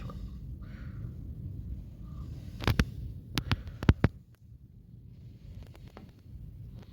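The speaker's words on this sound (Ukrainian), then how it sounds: "Так вітер дуже величезний, диви який." Low buffeting wind rumbles into the microphone in strong gusts outdoors in a village, with a few sharp clicks and knocks partway through.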